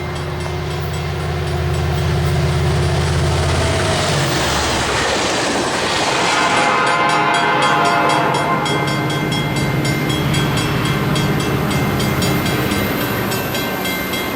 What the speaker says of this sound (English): A pair of GP35s lead a short westbound through Nichols just ahead of Amtrak 711 with another SDP-40F.